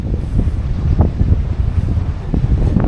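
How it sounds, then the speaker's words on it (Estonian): Strong coastal wind on Saaremaa during a perch fishing trip buffets the microphone, producing a loud, constant low rumble with gusty thumps throughout and no voices. "Niuke tuul on"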